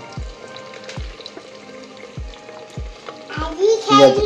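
Onion slices fry in oil inside a clay pot (mati handi) for Odisha-style chicken, with evenly spaced dull knocks from stirring about every half second and a brighter burst of sizzle near the end, close and fairly loud.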